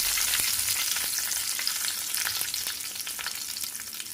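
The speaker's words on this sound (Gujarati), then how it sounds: "આ બધી વસ્તુને સારી રીતે આપણે મિક્સ કરી લઈશું." Cumin seeds, sesame seeds and curry leaves fry in hot oil in a pan while being stirred together, giving a steady close crackling sizzle broken by a few scraping stirs, with no voices.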